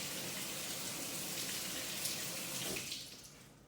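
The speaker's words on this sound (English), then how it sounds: "I'm gonna wash the lime off" A lime rinsed under a running kitchen tap, a steady rushing stream of water splashing close by that tapers off near the end as the flow is cut, with no voices.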